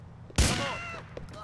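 A single loud gunshot in Grand Theft Auto IV, a sharp blast followed by a ringing decaying tail with a faint voice in the background.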